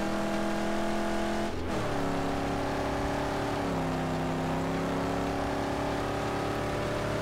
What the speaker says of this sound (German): Fahren wir mal weiter.